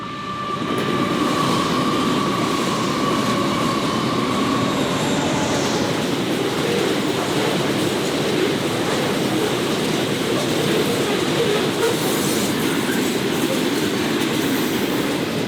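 A train rolls through Yass Junction in New South Wales, a loud sustained rumble with rhythmic wheel clatter and a faint early squeal, continuing steadily for the whole stretch.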